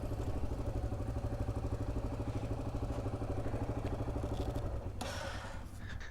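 An old motorcycle engine idles at a ferry crossing on the Transamazônica highway in Brazil, a steady low chugging pulse with a faint clatter. It runs alone throughout and a brief higher hiss enters near the end.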